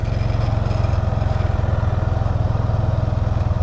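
Loose engine guards on a 2012 Can-Am Spyder RT-S rattle against a loud, steady idling engine, a fast even vibrating buzz throughout.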